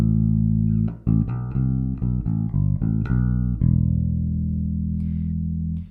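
Bass guitar playing the Formula 1 theme bass line: a quick run of separate plucked notes, then one long sustained note ringing out and fading, loud and alone with no talking.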